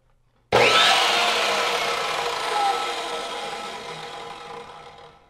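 An Evolution EVO SAW 380 circular saw motor whines loudly after a sudden start, a steady broadband whir that holds and slowly fades over several seconds, with no voices.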